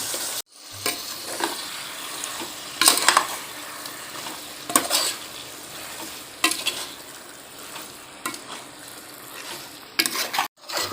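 Beef cooked for a gravy sizzles loudly in a pan while being stirred, with repeated scraping strokes of a spoon and occasional metallic clinks over a continuous frying hiss, no talking.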